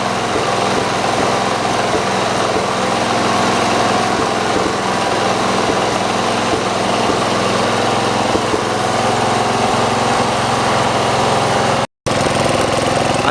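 A 1967 John Deere Round Fender tractor's newly fitted engine runs steadily outdoors, a loud, continuous rattling drone with a constant, unvarying pace throughout, briefly cut off once near the end.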